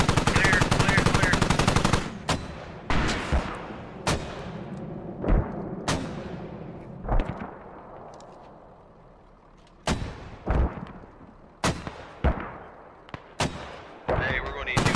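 Machine gun fire in the military shooter game Squad, a dense loud burst at first, then sharp single and short-burst shots at irregular intervals with echoing tails, while players talk over radio.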